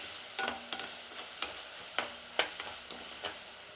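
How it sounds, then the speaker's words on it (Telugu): Ginger garlic paste frying in a pan while being stirred, with scattered scraping clicks from the utensil over a steady, soft background sizzle. "ఇప్పుడు అల్లం వెల్లుల్లి పేస్ట్ పచ్చివాసన పోయేదాకా బాగా మగ్గించుకోవాలి"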